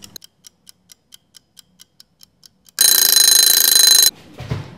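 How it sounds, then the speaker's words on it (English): A kitchen oven timer ticks steadily for a few seconds, then its alarm rings loudly and continuously for over a second before stopping, followed by a faint rustle. "Let's set our timer."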